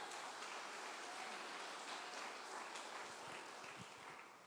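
Church congregation applauding together, a steady dense wash of many hands clapping at moderate distance, holding evenly throughout and easing slightly at the end.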